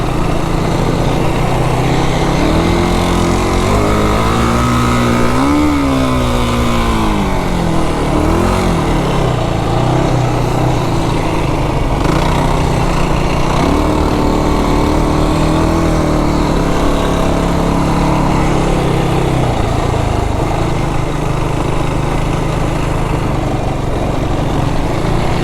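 A stock 2025 Yamaha YFZ 450R quad rides across sand dunes, its engine droning loudly and steadily, with a rising and falling rev swell early on before it settles back into a constant buzz.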